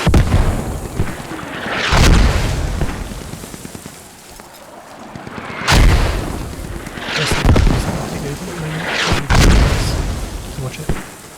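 Mortar rounds and explosions from a Squad match on the Narva map, several deep rumbling blasts that swell and fade every few seconds, loud and close, with intermittent player voices in between.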